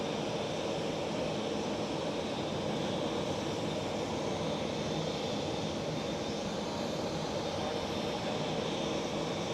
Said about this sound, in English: KLM City Airport took off in the background.